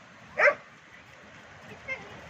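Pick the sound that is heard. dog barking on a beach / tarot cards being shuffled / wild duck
dog barking on a beach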